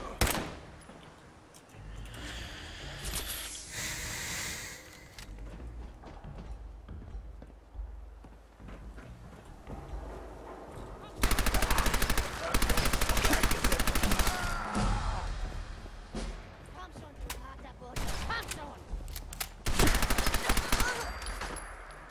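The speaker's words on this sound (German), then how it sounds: "Irgendwas hat auf mich geschossen, von irgendwoher." Gunfire from the video game Fallout 4 shoots at the player in noisy bursts and volleys, with loud stretches of shooting between quieter in-game action.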